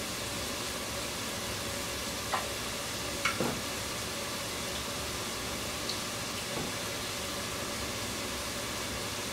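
Onions frying in a pan give off a steady, even sizzle throughout, with a few faint clicks and light stirring knocks.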